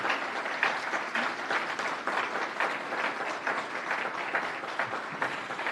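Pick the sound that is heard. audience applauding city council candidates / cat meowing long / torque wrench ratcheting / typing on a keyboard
audience applauding city council candidates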